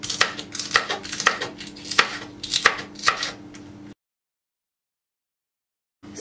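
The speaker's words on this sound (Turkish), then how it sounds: "Biberi de doğruyorum." A knife chops pepper on a board for a cheese salad in quick, regular, crisp strokes close up for about four seconds, then stops into silence, with no voices.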